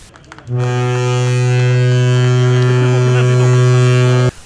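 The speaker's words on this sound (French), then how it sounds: "on a entendu ce klaxon particulier" A ship's horn sounds at a Douala port ceremony, one long loud steady blast with a deep tonal drone and strong harmonics that starts abruptly and holds for about four seconds before cutting off.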